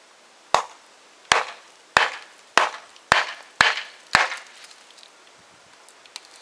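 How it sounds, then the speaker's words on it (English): Seven sharp hatchet blows in a steady rhythm split a piece of worm-eaten wood for a bow drill spindle outdoors, each a crisp woody crack with a short ringing tail, then quieter small knocks. "I think I'll go get my hatchet just to do the initial split"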